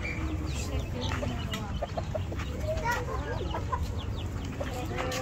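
Several chickens clucking and chattering nearby over a steady outdoor rumble, with faint voices in the background.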